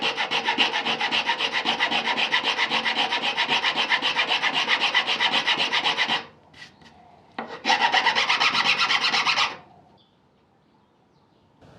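Hand tools rasp steadily across a wooden bow saw crossbeam, a dense continuous scraping stroke that stops briefly, resumes, then cuts off into near silence.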